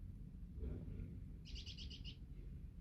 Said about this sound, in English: The birds are laughing.